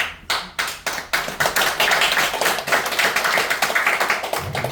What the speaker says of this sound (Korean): 제 얘기에 대해서는 첫 번째 박수가 나왔네